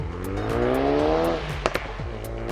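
A 2016 Ford Focus RS exhaust roars loudly and close, the engine note climbing steadily as it revs, then dropping off with a couple of sharp pops and crackles before settling into a lower drone.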